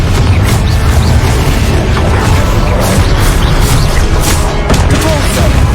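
Confringo spell blast in Hogwarts Legacy, loud booming impacts and crackling bursts over a dense, continuous rumble of combat noise.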